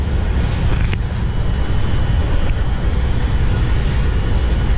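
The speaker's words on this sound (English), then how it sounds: "Big diesel locomotive." A loud, steady mechanical rumble of a big diesel engine drones on continuously, close by, with no talking.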